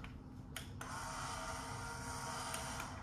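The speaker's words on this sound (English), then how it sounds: "it's a ceramic grinder" A portable ceramic coffee grinder grinds beans, producing a continuous close gritty whir with a couple of brief clicks, fairly faint and without talk.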